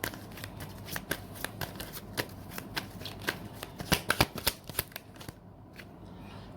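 Tarot cards being shuffled and drawn by hand, a quick series of crisp riffling snaps and soft flicks, close and fairly quiet, with the card noise tapering off near the end and no talking.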